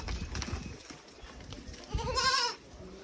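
Goats at a crowded Sindh livestock market in Pakistan, with a clear nasal bleat near the end rising out of steady crowd chatter and market noise.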